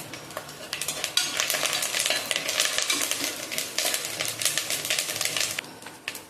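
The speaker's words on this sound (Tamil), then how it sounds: "பட்டை, கிராம்பு, ஏலக்காய்மா எல்லாம் போட்டு வதக்க வேண்டியதாம்மா" Cinnamon, cloves, cardamom and curry leaves sauté in hot oil in a pan for coconut milk rice, a steady bright sizzle with frequent stirring scrapes and light utensil clinks throughout, close and continuous with no talking.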